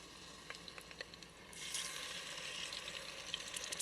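Marinated oxtail dropped by hand into a hot pot, bursting into a loud, steady sizzle after a second or so of faint ticking, the frying hiss continuing close and even to the end.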